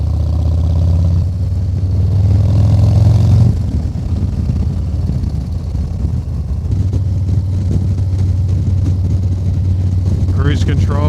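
A Harley-Davidson Low Rider ST motorcycle rumbles steadily while being ridden, a loud low engine drone with wind noise and shifts in pitch as speed changes, and someone talks over it.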